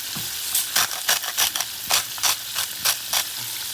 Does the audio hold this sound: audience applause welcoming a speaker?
no